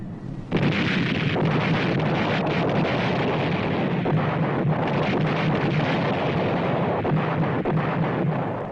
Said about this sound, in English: Day and night, the bombs continue